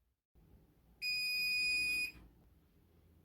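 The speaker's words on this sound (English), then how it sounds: "So the timer just went off." A kitchen timer goes off during banana nut bread baking, sounding one steady, shrill electronic tone for about a second against a quiet room before cutting off.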